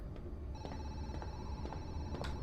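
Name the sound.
telephone ringing in video game Zoochosis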